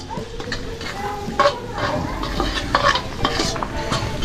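Garlic, onion and ginger sautéing over a wood fire, a steady close sizzle with a few louder scrapes and stirs of a utensil against the pan.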